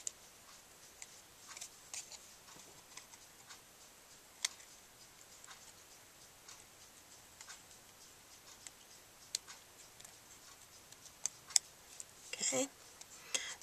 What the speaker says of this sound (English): I'll look for natural lines in the image that I can follow with my scissors